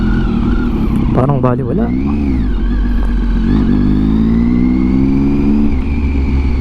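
Triumph Tiger 800 three-cylinder motorcycle with a Yoshimura exhaust, loud and close, rumbling in second gear over road humps with a few revving surges and dips, while a rider talks over the engine.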